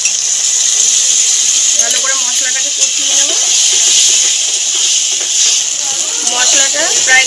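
Water poured onto chili powder in hot oil sends up a loud, continuous steamy hiss that lasts throughout, with a faint voice underneath.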